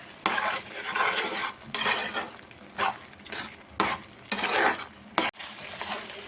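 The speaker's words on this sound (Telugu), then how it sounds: "ఇలా మంచిగా టమాటా అంతా బాగా మెత్తగా ఇలా స్మాష్ చేసేసుకోవాలండి" Cooked tomatoes and tamarind are mashed in a pan for tomato pickle, with bursts of scraping, squelching and clattering utensil strokes against the pan in an uneven rhythm over a faint sizzle, close and fairly loud.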